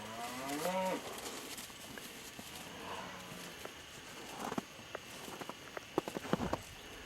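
A big calf moos once loudly near the start, followed by shuffling hooves and footsteps around the livestock pen, with occasional thumps and movement noise later.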